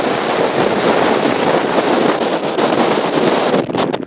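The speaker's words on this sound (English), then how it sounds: "It's kind of windy." Strong wind buffeting the microphone, a loud continuous roar that eases slightly near the end.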